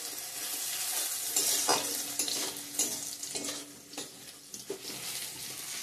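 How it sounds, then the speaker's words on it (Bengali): Onion, bay leaf, whole cumin and ginger tempered in hot oil, a lively crackling sizzle with spatula scrapes and a few pan knocks as it is stirred, close and continuous. "এখানে পেঁয়াজ ফোড়ন দিয়ে দিচ্ছি, তেজপাতা, গোটা জিরে, আর হচ্ছে তেজপাতা, পেঁয়াজ, আদা দিয়ে দেবো এখন"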